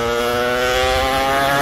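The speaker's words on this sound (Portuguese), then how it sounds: "O motor tá girando livre." A small two-stroke kart engine, an RD 135 motorcycle engine, runs steadily at high idle, its buzzing harmonic drone loud and close, with no pauses throughout.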